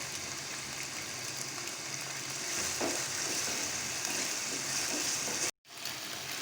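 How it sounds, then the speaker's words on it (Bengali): Egg chicken pasta with soy sauce sizzling steadily in a hot pan, a continuous close frying hiss with occasional stirring scrapes, then a brief dropout near the end. "এভাবে আমি কিছুক্ষণ ভাজবো।"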